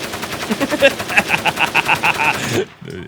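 Rapid automatic gunfire in a PC video game running at medium detail and 720p on an 8800 GTS graphics card, a close, loud rattling burst of about ten shots that stops abruptly.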